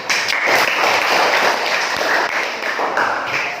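A classroom of students bursts into applause, a dense, steady wash of many hands clapping together for the full few seconds with no talking over it.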